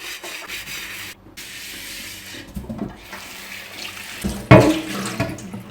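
Water running from a tap over a clay dosa pan as it is washed and scrubbed, a soft steady splash with rubbing and scraping, rising into a louder gush near the end.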